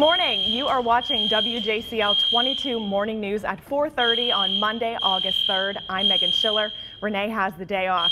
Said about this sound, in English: we have a fire drill going on right now. You can hear that blaring in the background.